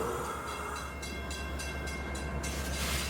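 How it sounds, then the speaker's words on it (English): Metra commuter train inbound to Chicago pulling into a station, a steady rumble of rolling cars with a sustained horn tone at a loud, even level, with no talk. "The next inbound Metra train to Chicago is now arriving at your station."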